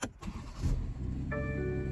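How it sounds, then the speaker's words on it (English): A BMW X3 plug-in hybrid starts with the hood open and the brake pressed, giving a low rising rumble that settles into a steady hum, with a tonal electronic chime joining near the end. "and the car will start"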